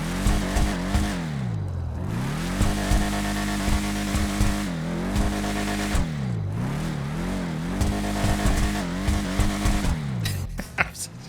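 San Andreas Autos car with a front exhaust in GTA 5 Online, its engine revving hard and repeatedly, pitch sweeping up and down through shifts, with tire squeal and crackling pops near the end, loud and continuous.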